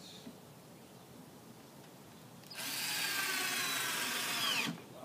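A screw gun whirs loudly for about two seconds, driving a 1 5/8 inch screw into plywood for a cornhole board, after a quiet stretch of faint background hiss.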